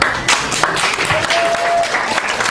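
A crowd claps loudly and continuously for a stand-up comedy audience, a thick, sustained burst of applause filling the whole moment without a break.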